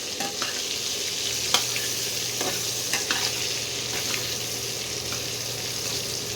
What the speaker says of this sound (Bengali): আলুগুলো এবারে সুন্দর করে ভেজে নিচ্ছি।